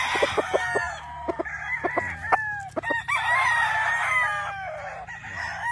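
A black gamefowl rooster on a gamefarm crows loudly and nearby, with short clucks and scattered calls from other fowl around it.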